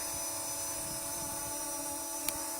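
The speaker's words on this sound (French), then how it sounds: "Donc le drone monte." Small C-Fly Dream drone climbing during a waypoint test, its steady electric motor whine holding as a continuous high buzz in light wind, with a brief sharper click near the end.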